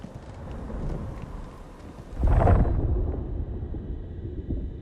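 A sandstorm rumble in the action game Unknown 9: Awakening, a continuous windy roar that swells into a deep, loud gust partway through, then settles back to steady blowing.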